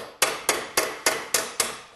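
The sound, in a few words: hammer on dolly shaping metal fender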